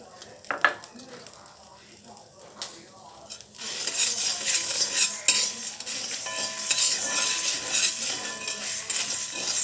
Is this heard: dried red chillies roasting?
yes